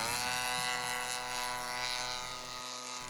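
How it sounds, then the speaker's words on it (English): A model airplane's propeller motor whines steadily as the plane makes a low pass down the field, a continuous buzzing drone that holds level throughout with no talking. "The solo shot also does a better job of tracking a plane when it's making a descending turn in for a low pass down the field."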